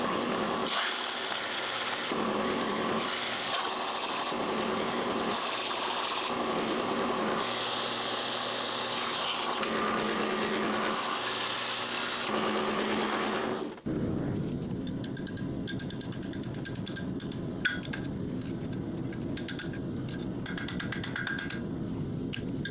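Power sanding on a forged metal ring holder hook, a steady loud grinding rasp that pulses in bursts, then shifts to a harsher, busier tool sound partway through.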